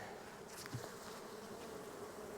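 Honeybees buzzing in an opened hive during a frame inspection, a continuous low-level drone of many bees with a brief closer buzz passing by, no voices.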